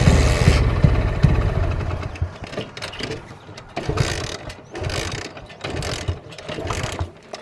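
A motorcycle with an empty petrol tank is cranked over and over, each attempt a short mechanical churning burst that never catches, repeating at close range with brief pauses between.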